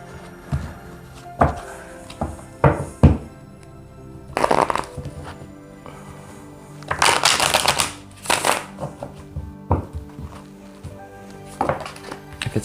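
A deck of tarot cards is shuffled and cut up close, giving irregular riffling bursts, taps and thumps of cards against a surface, with no voice.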